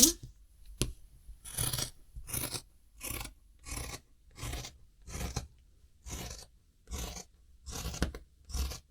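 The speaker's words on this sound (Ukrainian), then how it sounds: "І отак от під кутом потрібно зрізати." Scissors cut fabric at an angle while trimming a tights pattern piece, about ten crisp, evenly spaced snips close by, each a short crunchy rasp with brief quiet gaps between.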